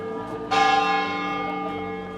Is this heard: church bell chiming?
yes